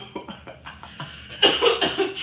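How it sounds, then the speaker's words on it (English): A few short, breathy coughs in quick succession, close by, rising to a louder burst of hacking near the end. "Stop coughing"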